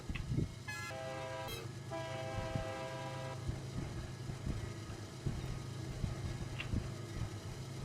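A video game train horn sounds in two short blasts near the start, then a steady low rumble of a rolling train slowing to a stop, with occasional clanks and knocks.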